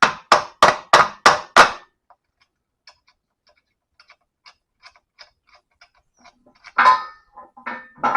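Six sharp hammer blows ring out in quick succession on parts of a 1959 Chevy Bel Air lower A-arm, followed by faint ticking and a few more loud strikes near the end.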